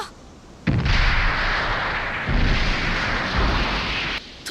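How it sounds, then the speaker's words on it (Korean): A sudden, heavy explosion in a Super Robot Wars Alpha video game bursts in, followed by a deep, sustained roaring rumble that surges again midway and cuts off after a few seconds. "그리고 이때 폭발음과 함께 경보음이 울리는데"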